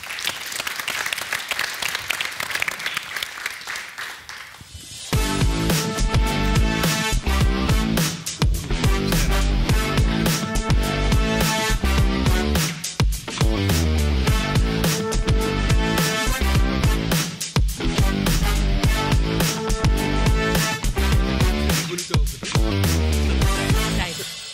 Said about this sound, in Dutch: Dus geef hem nog één keer een hartelijk applaus.